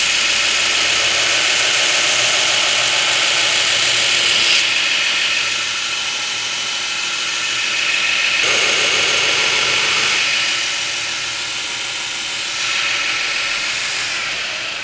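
Recurve bevels are ground on a Damascus integral hunting knife, left-handed on one side, with a continuous harsh, hissing grind that swells and eases across several passes and no speech.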